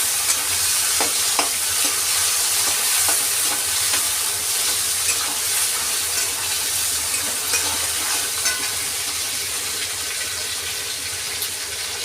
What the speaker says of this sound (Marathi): त्यानंतर शेंगदाणे, त्यानंतर टोमॅटो टाकायचे आपल्याला आणि याला छान असं परतून घ्यायचं आहे